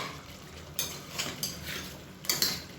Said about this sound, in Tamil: அதை நல்லா பரட்டி விட்டுக்கலாம்.